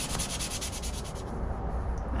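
Sandpaper rubbed over a Nissan Micra K10 number plate lamp gives steady, close scratchy strokes, quickly repeating at first and then smoothing into a continuous rasp.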